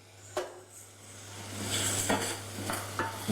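Garlic fries in a pan, a faint sizzle with occasional stirring scrapes and clinks of a utensil against the pan, quiet and close.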